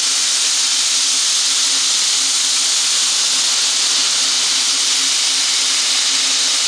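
Water is added slowly to a hot cast iron pan on an MSR Whisperlite camp stove while pork chops cook, and steam hisses loudly and evenly throughout, up close and with no voices.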